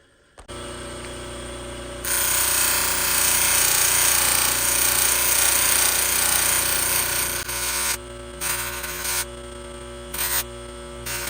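A loud, steady grinding whine of a 240 or 320 grit polishing wheel against gun metal, continuous at first, then cutting in and out in short bursts near the end.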